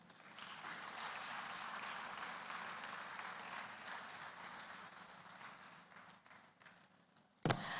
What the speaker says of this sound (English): Another warm round of applause for the Acting Political and Economic Chief